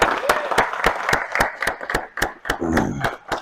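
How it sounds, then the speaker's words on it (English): Applause from a small group at a company safety meeting, with sharp, evenly spaced claps ringing out close by and voices talking and laughing underneath. "How about a round of applause for these guys, huh?"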